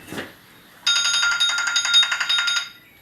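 A telephone rings with a rapid trilling electronic tone in one sustained burst lasting nearly two seconds, close and clear after a brief soft sound.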